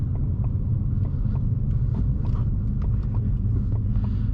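A 2019 Ford Mustang Bullitt V8 with a six-speed manual rumbles steadily from inside the cabin while driving, a loud, constant low engine drone with faint clicks and wind noise above it.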